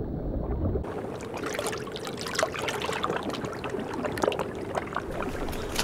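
Warm hot spring water lapping and trickling around snow monkeys as a mother grooms her baby, a continuous close burble of small splashes and dribbles, loud and steady with no voices.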